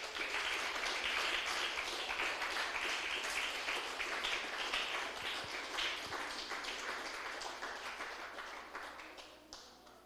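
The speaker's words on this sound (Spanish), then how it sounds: "Den un fuerte aplauso al Señor, aleluya." A church congregation claps during a Spanish-language worship service, a thick wash of hand claps that stays loud for most of the stretch and then thins and fades toward the end.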